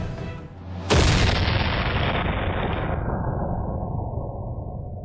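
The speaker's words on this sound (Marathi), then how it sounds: "यांना गोळ्या घालण्यात आल्या." A gunfire sound effect in a historical school play about the independence struggle: a single sudden, loud boom followed by a long, fading rumble.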